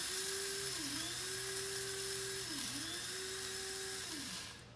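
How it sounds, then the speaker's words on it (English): Electric coffee grinder whirring through coffee beans in several short bursts, a steady motor whine that dips briefly between pulses, close and fairly loud with no talk. "we grind the beans for about 10 to 15 seconds in short bursts"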